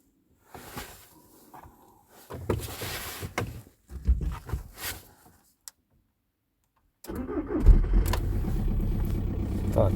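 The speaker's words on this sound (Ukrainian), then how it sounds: "будемо заводити двигун і прогрівати" A diesel car engine in freezing weather, coolant at zero degrees, is cranked and catches after a few seconds of clicks and thumps, then settles into a steady, loud idle close by for the last few seconds.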